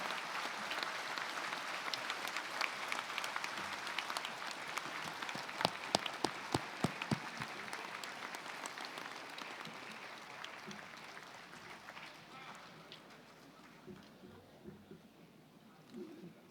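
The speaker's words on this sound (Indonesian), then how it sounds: "kami mohon hadirin sekalian kita berikan aplaus atas prestasi dan kehadiran mereka" Sustained applause from an audience fills a joint parliamentary session, steady clapping at moderate distance that slowly fades toward the end.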